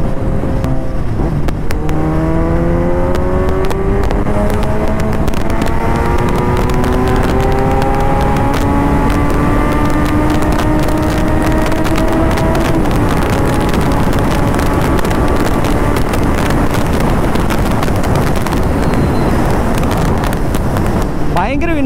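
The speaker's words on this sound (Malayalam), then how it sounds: "ഭയങ്കര വിൻബ്ലാസ്റ്റ് ഉണ്ട് വണ്ടിക്ക്, കാരണം എന്താ വെച്ചാൽ നേക്കഡ് മോട്ടോർ സൈക്കിളാണ്" A Kawasaki Z900 naked motorcycle with 125 BHP is ridden hard, its engine note climbing steadily through the gears in rising sweeps beneath a loud, constant roar of wind blast.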